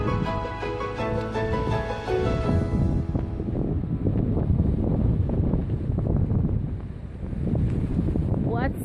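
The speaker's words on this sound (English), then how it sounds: "Oh Lord, that's a lot of wind." Strong seaside wind buffets the microphone at a beach, a steady loud roaring rumble that continues for the whole stretch, with a voice talking over it.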